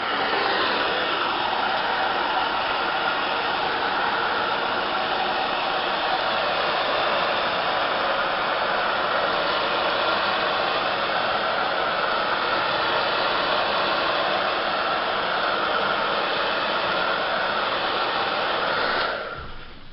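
A hair dryer blows steadily on hair during a short graduated haircut, a loud, close, constant rushing whoosh that runs unbroken for nearly twenty seconds before switching off at the end.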